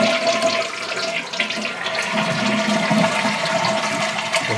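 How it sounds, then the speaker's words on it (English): A toilet flushes close by with a loud, sustained rushing swirl of water that carries on for several seconds without speech; the toilet is fitted with a Fluidmaster 400AH PerforMAX fill valve. "we're going to flush the toilet"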